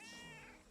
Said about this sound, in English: She was trying to like meow at me while eating.